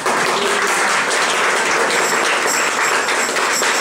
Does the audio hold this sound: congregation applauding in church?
yes